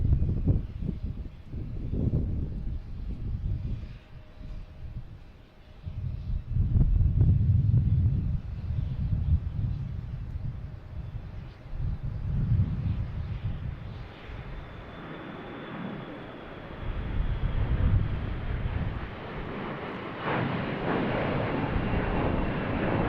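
An airliner, Flight 1432 bound for Detroit, on its takeoff roll at Boston Logan, with a loud, continuous jet engine roar heard from a distance that surges and swells as the aircraft accelerates, with no talk.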